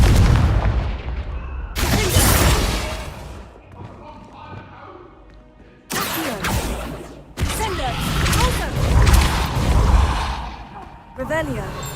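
Confringo spell blasts in Hogwarts Legacy, several loud booming bursts separated by quieter gaps, each one a sudden, heavy impact. Spoken voices are heard alongside them.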